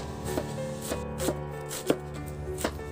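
A knife chops thinly through cabbage on a board in a kitchen, five crisp separate cuts at a slow, uneven rhythm, close and clear over a faint room hum.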